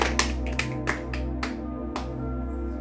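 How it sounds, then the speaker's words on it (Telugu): A group of children claps hands in a classroom quiz, a handful of sharp, irregular claps over a steady low hum, with no talking. "ఓకే, చప్పట్లు కొట్టండి"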